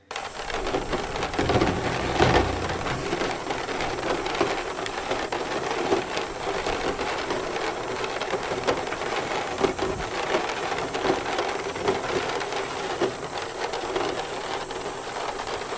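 A Rain Simulator sound device imitates rain with a dense, continuous patter of small taps and hiss, steady and fairly loud throughout.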